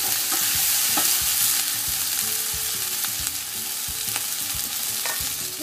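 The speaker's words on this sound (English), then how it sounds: "Two important things to chow mein that you have to be constantly stirring it" Vegetarian chow mein noodles with soy sauce stir-fried in a pan, a steady loud sizzle with frequent scraping and tapping as the noodles are constantly stirred, close and with no voices.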